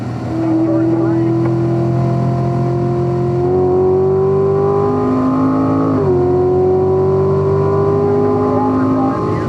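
A Corvette Stingray race car accelerates hard on a track, its engine note climbing steadily through the gears with a brief dip at a shift before rising again, loud and close throughout.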